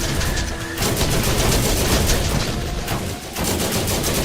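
Automated turret gunfire in Borderlands Game of the Year Edition while playing as Roland, a dense, continuous burst of rapid shots that runs nearly unbroken for about four seconds, loud and close, with only a brief dip near the end.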